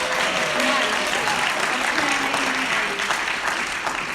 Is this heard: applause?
yes